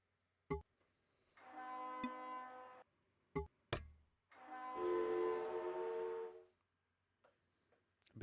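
A synthesized locomotive horn from the game Mini Metro sounds twice as sustained, harmonic tones, the first short and the second longer and louder, set among sharp clicks and soft game blips.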